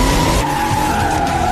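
Car tires squealing and skidding through a tight turn at high speed, a continuous loud screech with engine roar beneath, sustained throughout.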